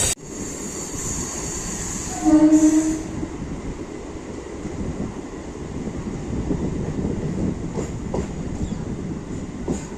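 A MEMU passenger train departs and rumbles steadily along the track with a continuous roar and faint clatter, close and loud, with a brief rise in noise early on.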